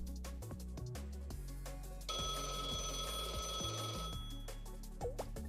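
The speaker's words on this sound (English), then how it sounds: "A phone call? Now?" A telephone rings in the Blue Archive video game, a steady electronic ring over busy game music, fairly quiet and continuous for a few seconds.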